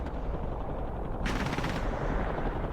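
Anti-aircraft artillery fires a sustained, rapid burst in DCS, a dense rattling barrage that swells partway through, with distant combat noise underneath.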